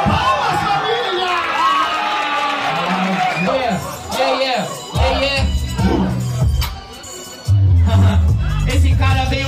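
A crowd at a rap battle cheers, whoops and shouts loudly in bursts, with voices mixed into the noisy din.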